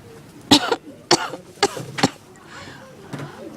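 A storyteller voicing a poorly creature gives a series of four sharp, close coughs in quick succession, then a fainter fifth cough after a short pause, with some throaty breathing in between.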